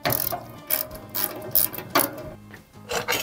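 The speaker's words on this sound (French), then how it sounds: "si vous avez un cliquet" A ratchet wrench tightening the table bolts on a Leman SRU470 band saw, rapid clicking strokes repeated in short bursts, close and clear with no talking.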